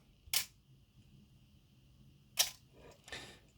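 A Canon AE-1 film camera fires its shutter at a slow speed: a sharp mechanical click, a quiet pause of about two seconds, then a second click and a softer third snap close behind it, all crisp and near.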